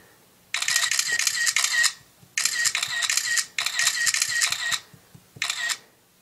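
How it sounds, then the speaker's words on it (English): An iPod Touch 4G camera fires its shutter in rapid succession, four quick bursts of dense mechanical clicking separated by short pauses, close and fairly loud with nothing else heard. "see how quickly the shutter is on the iPod versus the iPhone"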